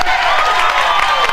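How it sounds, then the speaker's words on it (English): A studio crowd breaks into a brief, loud round of applause and cheering, a dense wash of clapping that fills the moment with no pause. "Give this guy a round of applause."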